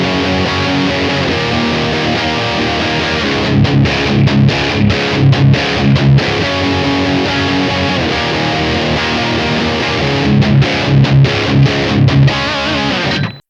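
Electric guitar through a Blackstar St. James 100 amp on its OD1 high-gain channel, a loud sustained distorted tone with chugging muted bursts and short choppy stops, played alone.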